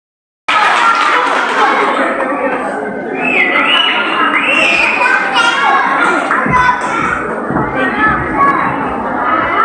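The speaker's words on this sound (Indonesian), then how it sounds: "kita berikan tepuk tangan sekali lagi" A school audience at a Pancasila recitation contest in Sangihe applauds, a dense wash of clapping mixed with children's chatter and cheering that fills the room.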